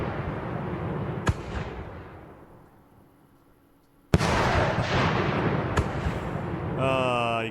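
Fireworks Mania video game fireworks burst with crackling, hissing showers that fade, then a loud sharp bang launches a dense new crackling barrage, with a whistling rocket rising at the end.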